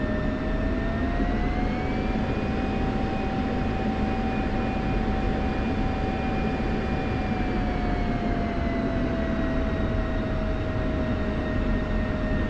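A military aircraft taxiing toward rearm and refuel pads in a flight simulator game, a steady loud engine roar with a sustained whine that rises slightly in pitch, then eases back down, with no speech.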